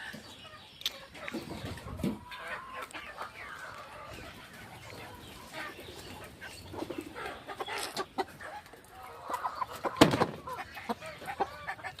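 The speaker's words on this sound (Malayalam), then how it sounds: "അപ്പോൾ ഇതൊക്കെയാണ് പൂവൻകോഴികൾ" Roosters and hens on a chilly farm cluck and call repeatedly at close range, with sharp bursts of crowing rising now and then over quiet background chatter from the flock.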